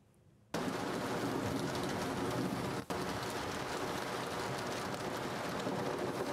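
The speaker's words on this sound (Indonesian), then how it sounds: "Hujan lebat betul dekat luar." Heavy rain pours down outdoors as a loud, steady wash of noise that starts abruptly and continues without a break.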